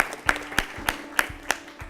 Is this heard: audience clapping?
yes